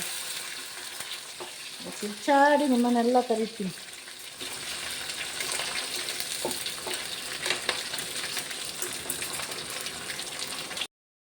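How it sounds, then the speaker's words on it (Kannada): Onion tempering sizzles in hot oil for a country-chicken sukka, a loud steady frying hiss that runs on after a short spoken phrase near the start, close and continuous until it stops abruptly. "ಈರುಳ್ಳಿ ಅಷ್ಟೇ ಇದೆ ಒಗ್ಗರಣೆ ಕೊಡೋದು ನೋಡಿ ಶಬ್ದ ಕೇಳಿತಲ್ಲ"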